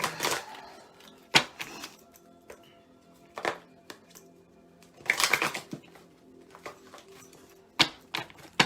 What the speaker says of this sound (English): So let me give it a shuffle really quick.